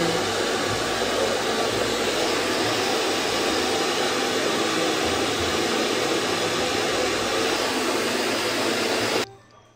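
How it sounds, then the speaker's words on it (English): Hair dryer blowing hair after a wig install, a loud steady whooshing motor roar held close and unbroken for several seconds, then abruptly switched off at the end. "Then I just use my hair dryer and"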